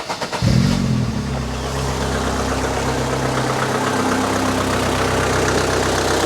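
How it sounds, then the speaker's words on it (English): An MG ZR 160 with a K series engine, cone filter and stainless steel exhaust fires up after a few cranks and settles into a loud, close idle with a steady throaty drone and slight revving. "it might sound like a normal K series engine, and it does have a stainless steel exhaust"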